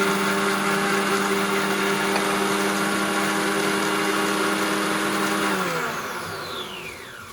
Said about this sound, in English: Margaritaville machine mixes it up pretty good